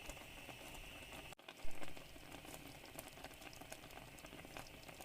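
Steady bubbling and soft popping of a sour cream, garlic and spinach-cheese sauce simmering in a pan, a continuous close wet patter with one brief dull knock partway through.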